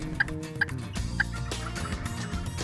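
Wild turkeys gobble three times in a quick, evenly spaced series during a hunt in Kansas, loud and clear over a low, steady background of other birds and rustle.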